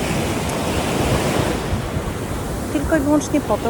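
Surf rolls steadily onto a beach in the Dominican Republic, close and loud with wind buffeting the microphone, while someone talks briefly over the waves near the end.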